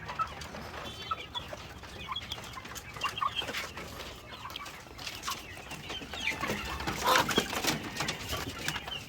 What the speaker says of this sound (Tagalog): Ito naman yung mga white leghorns natin.